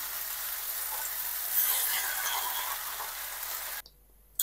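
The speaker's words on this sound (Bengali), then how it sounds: "এইবার এই ফোড়নে আমি সজনে পাতা দিয়ে দিলাম।" Moringa leaves land in hot oil tempered with spices and hiss in a loud, steady sizzle close by, with some stirring, before the sound cuts out abruptly near the end.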